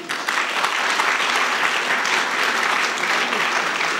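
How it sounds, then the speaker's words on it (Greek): An indoor audience at a Greek book presentation breaks into sustained applause, many hands clapping steadily and loudly for about four seconds with no voices standing out. "Του αξίζει χειροκρότημα."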